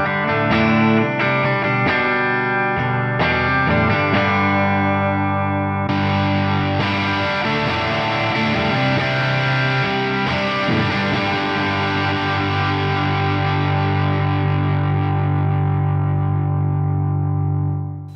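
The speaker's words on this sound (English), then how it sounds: "switching the pedal on" Electric guitar playing chords, first thinner and cleaner, then switching on a ROSS Distortion 2023 pedal to a thick, saturated distorted tone that rings out and sustains.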